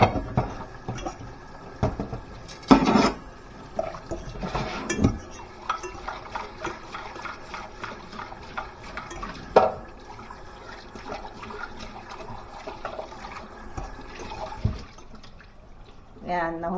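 Dishes being washed under running water at a home sink, with a continuous splash and flow broken by clinks and clatters of plates and a few louder knocks, while a person talks over it.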